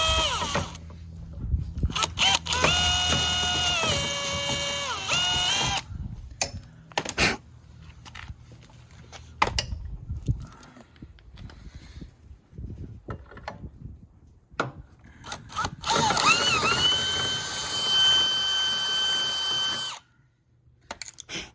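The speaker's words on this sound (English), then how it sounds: "Drilled it out with a 5/16." A power drill with a 5/16 bit boring out a hole on a Harbor Freight Predator generator wheel kit, loud and close, running in long whining bursts that rise and fall in pitch, separated by brief pauses and clunks.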